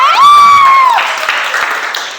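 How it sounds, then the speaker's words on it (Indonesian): A group at a session on religious moderation breaks into applause just after a loud, sustained vocal whoop. The clapping spreads into a broad wash for the final second and a half and fades slightly toward the end. "Ayo tepuk tangan ya"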